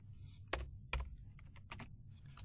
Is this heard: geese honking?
no